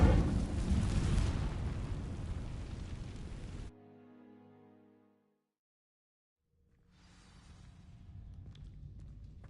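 An Incendio fire spell ignites dry vines in a Hogwarts game, a loud whooshing burst of flame that roars for a few seconds, cuts off abruptly, then gives way to a low crackling rumble after a brief silence.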